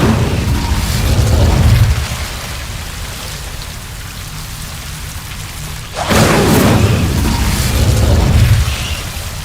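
Incendio fire spell cast in Hogwarts Legacy, heard as two loud roaring, crackling bursts of flame with a deep rumbling low end, each lasting a couple of seconds, separated by a quieter hissing stretch.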